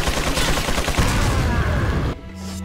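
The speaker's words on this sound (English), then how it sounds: "I did not expect Big Boy to be there with his machine gun." Sustained loud machine gun fire from an enemy in Resident Evil 4, a dense rapid rattle of shots lasting about two seconds before cutting off abruptly into quiet.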